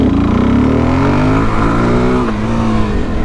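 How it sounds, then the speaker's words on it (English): Motorcycle engine revving hard in second gear while lifting into a wheelie, a loud, close, steady drone whose pitch climbs, dips and rises again, alone with no talk. "So I'm going to show you a second gear wheelie."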